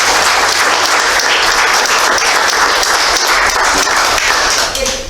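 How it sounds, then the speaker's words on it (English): Audience applause at a local history talk, a dense, steady wash of clapping from a full room that holds loud and even for about five seconds before starting to thin at the end. "Let's give Donn a round of applause"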